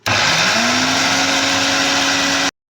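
A mixer grinder powders roasted, cooled ingredients, a loud steady motor whir that rises in pitch as it spins up, runs about two seconds and cuts off sharply.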